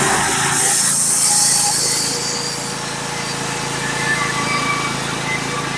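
A sawmill blade cuts slowly through a hard sycamore log, giving a steady, loud, continuous droning whine with a constant engine hum beneath.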